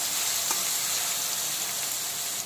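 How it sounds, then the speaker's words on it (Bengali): Chopped onion with spices fries in a wok with a dense, bright, continuous sizzle, steady and close throughout. "এখানে কিন্তু পেঁয়াজটাকে ডার্ক গোল্ডেন ব্রাউন করে ভাজবো না, হালকা বাদামি কালার করে ভেজে নেব"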